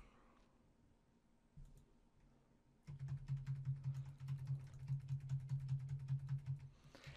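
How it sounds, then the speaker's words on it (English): Rapid tapping on a computer keyboard mixed with mouse clicks, recorded through a Blue Yeti microphone at a desk; a quiet stretch with a few clicks gives way to steady, dense typing that runs for several seconds, close and moderately loud. "I like to tap on my keyboard as well as click on my mouse a bunch."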